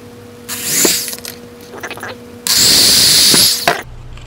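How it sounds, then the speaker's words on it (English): Two loud bursts of a power drill boring holes with a 3/16 bit, a short whine then a longer sustained high-pitched grind, close up with no talk. "going to drill holes using this 3/16 drill bit"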